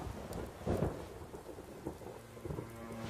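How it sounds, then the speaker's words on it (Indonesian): Rain pours steadily onto surfaces while thunder rumbles low in the background, one heavier roll near the start and softer rumbles later, with no voices. "Kasihan benar hujan-hujan gini."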